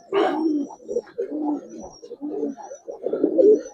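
Giribaz pigeons coo in a run of soft, throaty phrases, close and fairly loud, repeating with short gaps and no talking over them.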